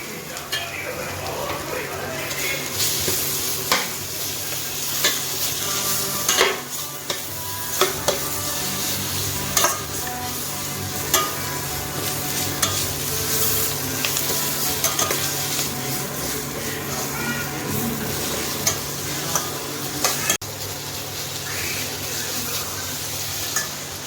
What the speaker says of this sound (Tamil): இப்போ அரிஞ்சு வச்ச தக்காளியை இதில் போட்டு வதக்கணும்.